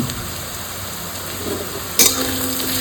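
Chopped onions with crushed garlic frying in a pan, a steady soft sizzle throughout with a brief louder burst as the garlic hits the oil near the end.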